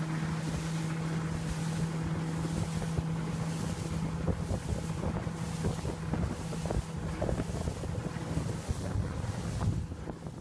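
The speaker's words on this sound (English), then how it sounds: "here is the boat moving away from them" A boat engine drones steadily under heavy wind buffeting and splashing water, with the motor hum fading slightly over time.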